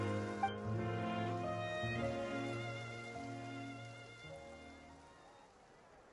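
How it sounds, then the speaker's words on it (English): Steady rain falling in the game Genshin Impact, a soft even patter over a layered musical background, fairly quiet throughout and without spoken voices. "It rained for longer than I suspected."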